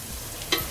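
Onions frying in ghee for khichuri beresta, a steady close sizzle with a brief scrape of stirring near the end, no voices.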